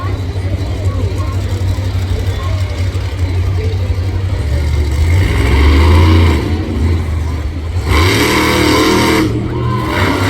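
A monster truck at New Egypt Speedway revs hard as it turns and backs up, a loud, close engine roar that swells around the middle, dips briefly, then surges again.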